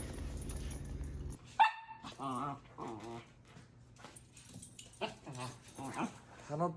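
A dog gives a few short whimpers and yips, mostly faint and intermittent, with a louder yelp near the start, over a low steady background hum.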